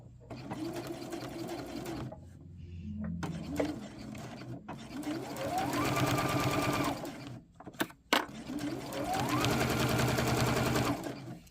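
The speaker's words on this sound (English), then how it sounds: "Now you could sew it from this side if you want." A sewing machine joins quilt pieces in several close, loud runs of rapid stitching, each motor burst rising and holding steady, separated by brief pauses with small clicks and handling sounds.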